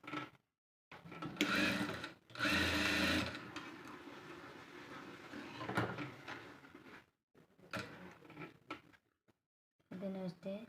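A sewing machine stitches a blouse in short, quiet bursts of whirring, separated by pauses, while a person talks nearby.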